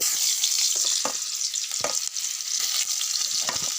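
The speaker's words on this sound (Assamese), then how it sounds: "এই কুন্দুলি চব্জি বনাই লওঁ তেল দি মাৰি লওঁ প্ৰথমতে" Chopped ivy gourd (kundruli) frying in hot oil, a continuous bright sizzle close up with occasional stirring clatters of a utensil in the pan, no voices.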